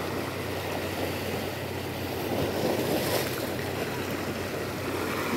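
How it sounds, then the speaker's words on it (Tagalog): Ocean waves wash steadily along a shore where people are kayaking, a continuous broadband rush with gusty wind buffeting the microphone, close and moderately loud with no talking. "Yan ang alon."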